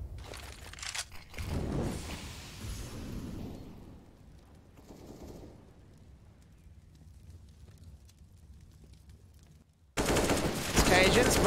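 Gunfire sprays in a competitive Counter-Strike match on the Inferno map: rapid rifle bursts open the clip, a quieter stretch follows, then a loud sustained spray of shots closes it.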